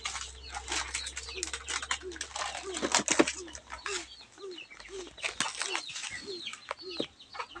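A pet bird named Pagaspas arrives back at a house, giving repeated short chirps and coos with brief wing flutters, close and moderately loud, over a low background hum.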